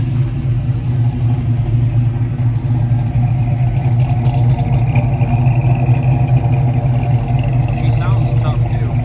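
A 1969 Oldsmobile Cutlass with an LS swap idles nearby with a deep, steady rumble. Its tone stays even throughout, and a faint voice is heard under it near the end.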